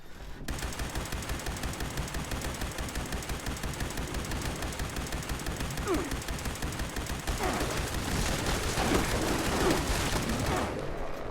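Turrets fire in Fallout 76, a fast, steady machine-gun rattle that runs throughout, growing denser and louder partway through, with extra impacts layered in.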